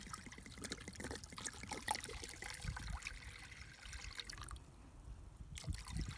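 Water pours steadily into a Dutch oven to a depth of about an inch, ready to steam a roast. A continuous close trickle and splash runs throughout with no talking.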